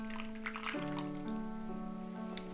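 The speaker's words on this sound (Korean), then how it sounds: "근데 이 물 따르는 소리가" Water is poured for tea in a small house, a thin stream whose pitch climbs steadily as the vessel fills, close and fairly quiet with a few faint splashes.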